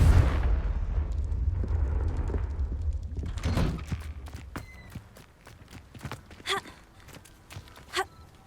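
A Confringo fire spell exploding in Hogwarts Legacy, a heavy rumbling blast at the start that fades, followed by a second burst and scattered sharp impacts and crackles.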